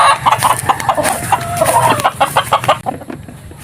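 White Kelso gamefowl chickens clucking at a range, with a rapid run of close, loud clucks and short squawks over a busy background of other birds.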